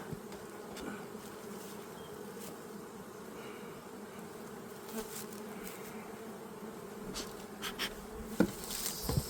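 A dense, steady buzz of many honeybees swarming close by at an open hive, continuous throughout with a few brief louder passes near the end.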